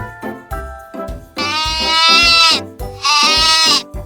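A voice imitates a sheep's bleat in a series of short, nasal, wavering cries, some clipped and others drawn out, spoken closely in a children's lesson about farm animals.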